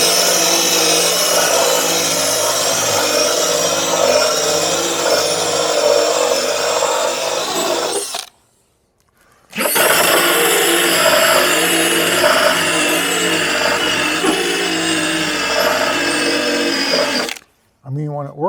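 A power tool spins an eraser wheel against a CJ-7's painted body to strip off a decal, giving a loud, steady whine that cuts out briefly midway and stops again near the end.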